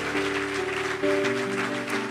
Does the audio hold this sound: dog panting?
no